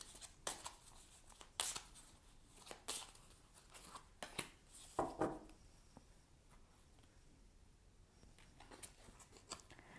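Tarot cards are shuffled and handled while one is chosen, giving soft, close slides, flicks and taps in an irregular rhythm, quiet and alone.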